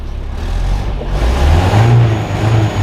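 A restored 1977 Toyota Celica GT barn-find engine runs just after starting, a close, steady low rumble that swells slightly as it settles into its idle.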